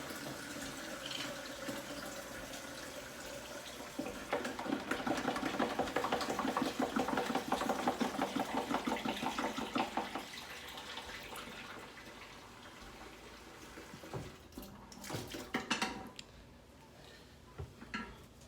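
Hot tap water runs steadily into a container to dissolve fertilizer crystals for garden feeding, a broad continuous splashing gush that swells louder midway, then tapers off with a few clinks and knocks toward the end.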